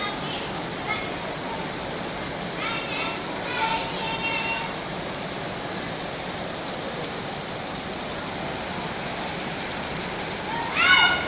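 Steady rain falls and patters outdoors at a school during a lesson, a constant wash of sound. Children's voices and a few brief squeaky calls rise over the rain.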